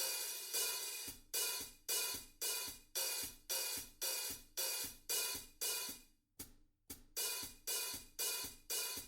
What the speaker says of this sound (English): we're opening and closing the hi-hat with our left hand